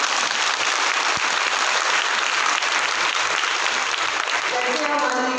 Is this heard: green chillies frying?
no